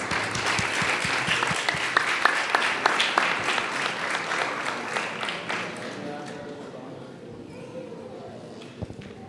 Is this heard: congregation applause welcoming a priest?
yes